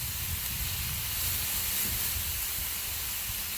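Pork searing in a cast iron Dutch oven gives a steady, close hiss of sizzling fat that holds evenly throughout with no talking over it.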